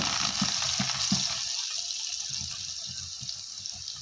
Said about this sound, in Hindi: तो जैसे ही ज़ीरा भुनने लग जाए तो हम इसमें शामिल कर देंगे कुछ फ्रेश कोरिएंडर